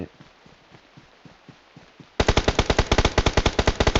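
Video game gunfire: a soft, distant rapid burst first, then a much louder close automatic weapon firing fast evenly spaced shots for the last two seconds.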